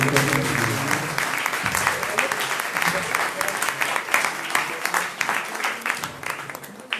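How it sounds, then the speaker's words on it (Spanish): An audience applauds a professor at the close of an academic lecture, a steady dense patter of many hands clapping that gradually thins toward the end, with some voices mixed in. "Un fuerte aplauso para nuestro profesor."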